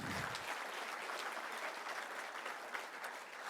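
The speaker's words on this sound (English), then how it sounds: "Please give her a round of applause." Quiet but dense audience applause at the launch event for the Beyond Zero Half Marathon, a steady wash of many hands clapping at a distance without a break.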